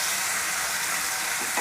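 Chicken pieces for tandoori chicken fry on high flame, a dense, loud, continuous sizzle heard up close with a faint stirring movement near the end.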